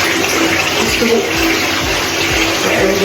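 Water rinsing through thick, dry, porous curly hair at the scalp makes a steady, close rushing wash of running water that continues throughout with no pauses.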